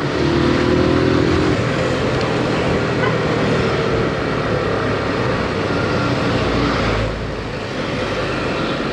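A Suzuki Gixxer motorcycle engine, loud and close, revving with a rising and settling drone that drops off briefly near the end before picking up again.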